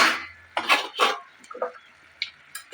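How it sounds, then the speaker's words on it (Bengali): A lid goes onto a cooking pan while drumstick flowers cook, a few close metallic clanks and scrapes with short pauses between. "দিয়ে আমি এবার একটু ঢাকা দিয়ে দেবো বন্ধুরা"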